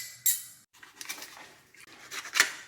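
A metal lid goes onto a pot of conch soup with beans, a few sharp clinks and clatters of metal on metal, close and fairly quiet, with no talking.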